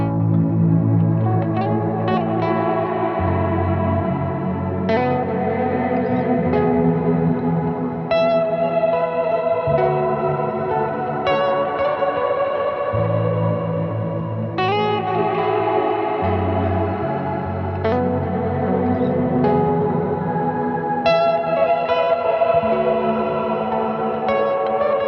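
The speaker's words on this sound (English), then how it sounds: "Because there's modulation and delay going into a large reverb sound, you have a complex and evolving reverb effect." Hologram Microcosm pedal on a multidelay preset feeding a large reverb, shimmering echoing notes repeating and smearing into a long evolving wash, steady level, no voices.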